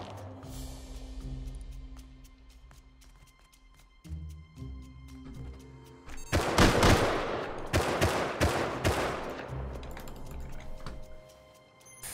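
Rapid gunfire from two rows of mounted guns in the Rust video game erupts after quieter ambience, with dense bursts of loud overlapping shots and shorter volleys continuing, close and harsh.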